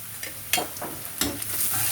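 Onions, chilies and grated ginger with salt and turmeric stirred in a frying pan, a steady oil sizzle broken by several scraping spoon strokes at close range.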